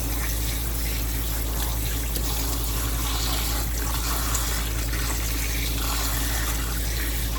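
Water runs steadily and continuously through a colander holding rinsed, roasted Pueblo chile peppers, a close, even gushing and trickling flow with no talk.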